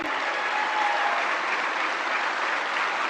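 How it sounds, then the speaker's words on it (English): An audience at a public event applauds the Prime Minister with a steady, even wash of many hands clapping, heard from a distance at a fairly low level and with no talking. "let us express our gratitude with a thunderous applause"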